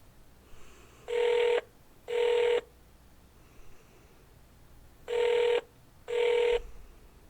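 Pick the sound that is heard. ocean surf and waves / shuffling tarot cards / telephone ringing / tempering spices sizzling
telephone ringing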